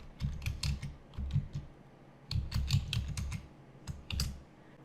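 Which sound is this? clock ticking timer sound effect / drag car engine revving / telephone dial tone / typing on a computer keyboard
typing on a computer keyboard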